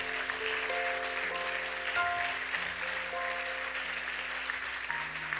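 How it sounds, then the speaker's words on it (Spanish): A church congregation at a women's seminar gives steady, continuous applause, moderately loud and sustained throughout, with faint tonal sounds and a murmur beneath. "Denle un aplauso a Dios si se lo puede dar"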